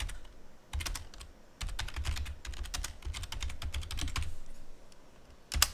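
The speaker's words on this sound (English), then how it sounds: "and I'll just type this in." Rapid clicking keystrokes on a computer keyboard, close and steady in several quick bursts with short pauses between, with no talk over them.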